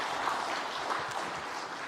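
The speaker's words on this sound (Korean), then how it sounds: "우리 박수 한번 드릴까요?" A church congregation applauds its choir at a year-end service, a steady wash of clapping from many hands that stays even and moderately loud throughout, with no voices standing out.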